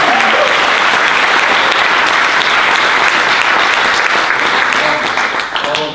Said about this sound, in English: our hosts at Middlebury Town Hall Theater deserve a real round of applause